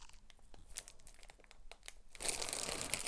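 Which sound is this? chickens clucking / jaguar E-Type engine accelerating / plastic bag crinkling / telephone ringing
plastic bag crinkling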